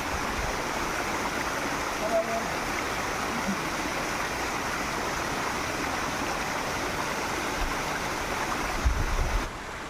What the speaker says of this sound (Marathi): हा बघा आपला झरा एक खूप उगम आहे झऱ्याचा